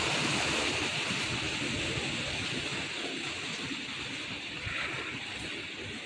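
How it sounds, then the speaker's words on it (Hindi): Mountain water rushing out from below near a Himalayan temple in Uttarakhand, a steady, dense broadband roar like a stream or small waterfall, continuous and fairly close throughout with no talk. "नीचे से निकल जा रहा है ना ये पानी"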